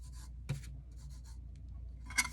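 A brush sweeping loose glitter off tape on a tumbler: quiet, short scratchy strokes in quick bursts, with a brighter swipe at the end.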